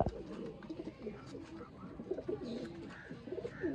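Sialkoti pigeons coo in soft, rolling, overlapping calls, a steady murmur from a flock at fairly close range with no voices.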